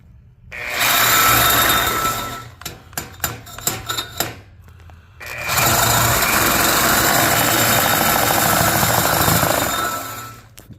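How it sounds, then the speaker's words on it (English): A Sawzall reciprocating saw cuts through the exhaust pipe of a Chevy Blazer in loud, close bursts: a sustained cut, a series of short stuttering strokes, then a second long steady cut that winds down. "Grab our handy dandy Sawzall. Figure out where we want to cut"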